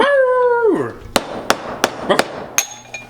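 A person mimics a dog's howl, a sliding, falling vocal wail lasting under a second, followed by several sharp knocking thuds.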